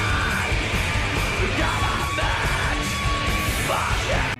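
A man screams in an industrial style, a loud, sustained, harsh yelling voice over dense, distorted music that runs continuously and cuts off abruptly at the end.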